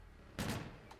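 A single loud gunshot bursts out in a video game during a nuclear blowout, a sharp close crack with a short decaying tail and faint trailing echoes.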